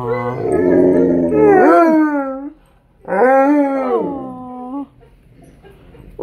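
An Alaskan Malamute and a Blue Bay Shepherd howl in two long, loud, wavering calls that rise and fall close by, with a person briefly speaking softly.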